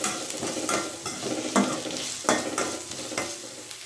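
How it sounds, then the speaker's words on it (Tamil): Onion with ginger-garlic paste sautéing in a pan for egg chapati, a steady close sizzle broken by several distinct scraping stirs of a spatula, with no voices. "இஞ்சி பூண்டு பேஸ்ட், வெங்காயம், இஞ்சி பூண்டு பேஸ்ட் எல்லாம் நல்லா வதங்கணும்"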